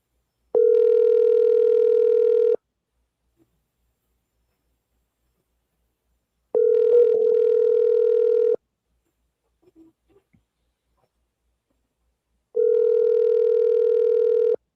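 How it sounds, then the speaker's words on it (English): Landline telephone ringing out on a call-in radio show, three long steady two-second ring bursts separated by silent gaps, loud and clean with no talk over them. "I'm calling our next number for NCK."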